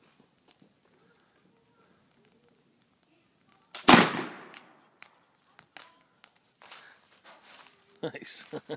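A Model 1806 Baker rifle fires a single loud, booming shot outdoors, followed by a fading echo, faint movements and footsteps, and voices speaking afterward.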